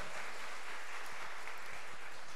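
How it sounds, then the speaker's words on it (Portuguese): Applause fills a church during a festival triduum service, a broad steady wash of clapping from the congregation that stays moderate and even throughout, with no voices standing out. "Aplauda Jesus, aplauda Ele, pode aplaudi-lo, aplauda."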